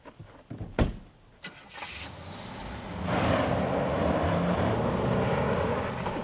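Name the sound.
car engine starting and driving away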